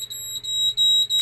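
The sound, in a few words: boat bilge high water alarm going off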